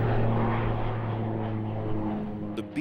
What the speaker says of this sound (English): The Beech B-200 that flew into the North Las Vegas airport on a warm July afternoon looked a lot like all the other private planes